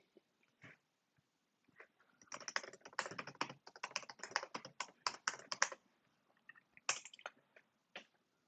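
Rapid computer keyboard typing while writing Python socket code comments, bursts of clicking keys in an irregular rhythm, near and moderately loud, with short pauses and a few isolated taps.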